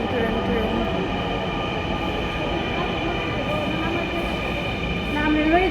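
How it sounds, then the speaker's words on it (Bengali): A metro train pulls into a station in Uttara Diyabari, Dhaka, a steady rumbling drone with tonal whine and faint squeal heard at moderate distance, with people talking nearby. "এই যে ট্রেন চলে আসতেছে, ট্রেন ট্রেন ট্রেন।"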